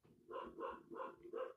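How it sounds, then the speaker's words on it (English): A dog barks four times in an even rhythm, muffled and fairly distant as if heard from another room or outdoors, with brief quiet gaps between barks. "He's probably barking at a dog that's walking past"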